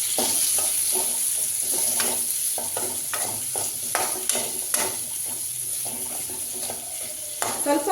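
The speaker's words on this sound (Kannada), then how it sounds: "ಪನ್ನೀರ್ನು ಕೂಡ ಫ್ರೈ ಮಾಡ್ಕೊತೀನಿ ಎಣ್ಣೆಯಲ್ಲಿ" Paneer frying and sizzling in hot oil in a pan, a steady close crackle with repeated scraping stirs and spatula clinks throughout, no talking.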